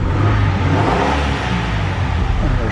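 A 1989 Ford Thunderbird LX engine revving loudly and close, a continuous rising and falling roar of the motor with no pauses, lasting nearly three seconds.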